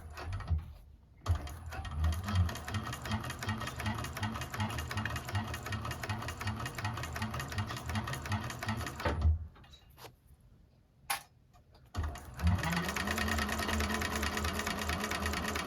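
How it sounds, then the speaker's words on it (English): A 1341 cylinder arm sewing machine stitches a bag in a steady, rapid mechanical whir close by, stops briefly for a few clicks around the back stitch, then runs again. No one speaks. "Don't forget to back stitch and hold your threads."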